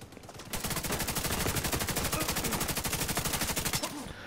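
Sustained rapid automatic gunfire aimed at the player in the Dark Zone of Tom Clancy's The Division 2, loud and close, a steady rattling burst of evenly spaced shots lasting several seconds before cutting off.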